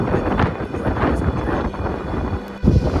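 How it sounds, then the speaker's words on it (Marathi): Strong wind on the Gorakhgad fort trek roars and buffets the microphone in a continuous, heavy rumble with gusty surges, loud and close. "वारा एवढा जोरात आलेला आहे"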